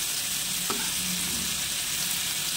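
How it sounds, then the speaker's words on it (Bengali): Pointed gourd (potol) frying in hot oil, a steady loud sizzle that continues throughout with no talking. "পটল ভাজতে দিয়েছি, পটলগুলো লাল লাল করে ভাজা হবে"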